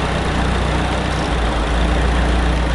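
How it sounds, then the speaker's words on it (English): A steady, loud engine drone with a deep low rumble from a Ford Focus ST or Mazdaspeed during an auxiliary fuel injector test; the pitch sags slightly partway through as the motor bogs down, with no talking. "You hear the buzz, you hear the engine bog"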